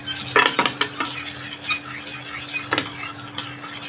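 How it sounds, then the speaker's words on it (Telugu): Semolina (rava) roasting in a pan on a low flame while a metal spoon stirs it, producing irregular scrapes and clinks against the pan over a faint steady hum, close by without talk. "రవ్వని లో ఫ్లేమ్లో పెట్టి బాగా బ్రౌన్ కలర్ వచ్చేంత వరకు మీరు ఈ విధంగా వేయించుకోవాలి"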